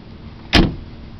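A single solid thump of a 1978 Daimler Jaguar limousine's door shutting, close and sharp, with a brief muffled decay against faint background hiss.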